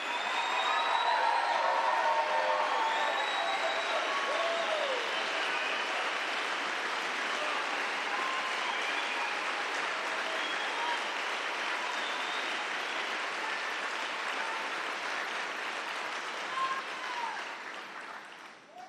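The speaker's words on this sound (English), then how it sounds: "She deserves a round of applause." An audience applauding, a steady wash of clapping from a crowd that holds evenly for most of the stretch and then tapers off at the end, with no clear voices over it.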